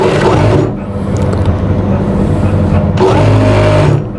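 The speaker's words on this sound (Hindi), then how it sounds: "हम घेरे की सिलाई लगाते हैं" A sewing machine stitches the hem of a kurta in loud, close, continuous bursts with a brief easing mid-run, and no talking.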